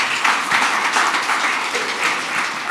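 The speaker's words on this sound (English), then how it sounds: "Big round of applause for the online participants." An audience at a presentation applauds steadily, a dense wash of clapping that holds at an even level throughout.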